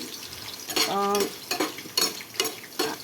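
Potato pieces and green chilies frying in a pan for sabudana khichdi, pushed around with a spoon: repeated close scraping strokes over a steady sizzle, with one brief tonal squeak.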